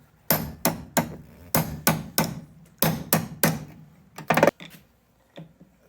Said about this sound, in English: My favorite tool, a ball peen hammer. And a punch.